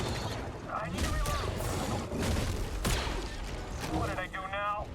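Gunfire in the video game Star Wars Jedi Survivor, bursts of blaster shots and booms mixed with game effects and a talking voice throughout.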